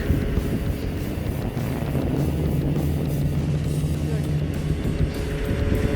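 A Motus Pro 10 Sport 2021 electric scooter accelerates gradually on one motor, giving a steady, close motor hum with wind rush that holds even throughout.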